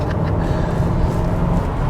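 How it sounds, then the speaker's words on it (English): A Mercedes-Benz W210 E60 AMG engine is held against the rev limiter in first gear, giving a loud, continuous low roar heard close up for a couple of seconds. "I got it into the rev limiter."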